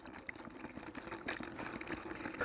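Hot water, steaming, is poured into a container to mix a copper sulfate solution for spraying trees, giving a steady broadband rushing pour throughout, close and continuous.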